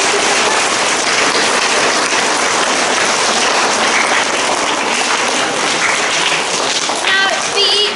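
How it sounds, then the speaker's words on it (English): Applause from a school assembly audience after a flute and harp performance, a dense, loud, steady wash of many hands clapping that fills the whole stretch, with a few faint voices near the end. "Shall we give them another massive round of applause?"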